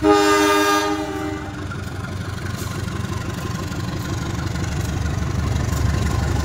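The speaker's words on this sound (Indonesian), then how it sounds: "lokomotifnya CC 201 9213" CC 201 diesel locomotive hauling a passenger train at Solo Balapan station in Indonesia, opening with a loud sustained horn blast that cuts off after about a second, followed by the steady rumble of the engine and passing train.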